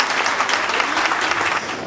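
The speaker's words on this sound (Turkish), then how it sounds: "Huzurunuzda tekrar onları bir kuvvetli bir alkış rica ediyorum arkadaşlar" Vigorous applause from an audience at a community association gathering, loud, dense and continuous clapping filling the short moment with no break.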